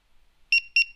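iTag Bluetooth tag beeping: two short, close, shrill electronic double beeps in quick succession after a moment of quiet, loud and alone.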